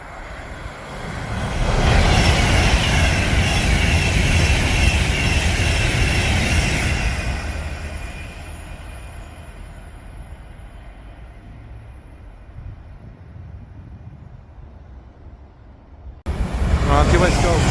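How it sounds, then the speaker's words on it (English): An Avanti West Coast train on the West Coast Main Line runs through Lichfield Trent Valley station without stopping, a loud sustained rushing roar that swells, holds, then fades to a quieter rumble before a sudden return of noise at the end. "We have another Avanti West Coast now approaching without stopping."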